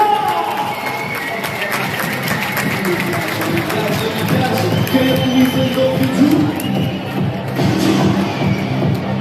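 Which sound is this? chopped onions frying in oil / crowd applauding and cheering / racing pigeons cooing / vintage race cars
crowd applauding and cheering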